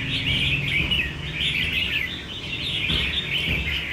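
A red-whiskered bulbul sings close by, loud bright phrases of chirps and trills repeating steadily without pause, no voices over it.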